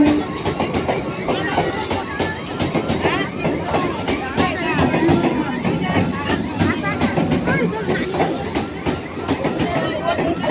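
A train rumbles past close by with continuous rhythmic clickety-clack of wheels on rails, loud and steady throughout, with a crowd's babble and voices mixed in.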